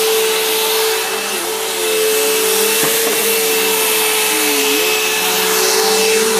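A Bissell vacuum cleaner runs loud and close with a steady high motor whine, its pitch dipping briefly a few times as it moves, with no speech heard.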